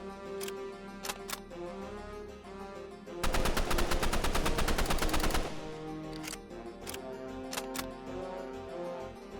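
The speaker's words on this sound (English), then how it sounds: "This makes it a lot easier to keep your aim steady while you're firing." Rapid automatic gunfire from a weapon in the Roblox game Rivals, a dense burst lasting about two seconds, bracketed by a few short single shots before and after, loud and close with no talking.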